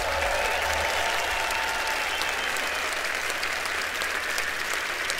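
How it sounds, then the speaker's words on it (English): A large audience in Frankfurt breaks into sustained applause, a dense, even wash of clapping that carries steadily from start to finish with no voices standing out. "this applause is for you"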